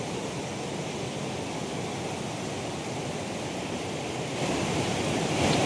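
River water flowing along a forest path, a continuous broadband rush that stays steady and close, then grows slightly louder near the end, with no voices.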